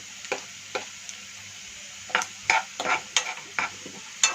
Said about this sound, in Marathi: हा कांदा मी असाच फ्राय करून घेते। यात आपण घालूया मिरची, लाल हिरवी मिरची